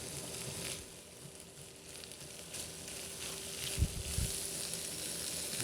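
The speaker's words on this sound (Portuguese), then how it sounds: "Deixa ele dar uma fritadinha aqui." Chopped onion and garlic frying in a pan for a country-style farofa rice, giving a steady low sizzle and crackle throughout, with a brief louder stir or scrape near the end and no talking.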